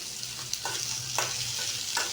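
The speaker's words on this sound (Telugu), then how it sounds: "మన మిగతా వెజిటేబుల్స్ అన్నీ యాడ్ చేసుకోవాలి యాడ్ చేసుకొని వీటిని కూడా కాస్త వేగనివ్వండి" Vegetables for a chutney fry in a pan. A steady close sizzle is broken by a few soft stirring scrapes, with no talking.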